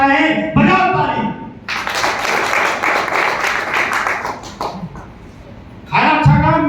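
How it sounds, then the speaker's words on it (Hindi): A crowd at a speech in Katni, Madhya Pradesh breaks into clapping for about three seconds. It comes between stretches of a man's amplified speech. "बजाओ ताली।"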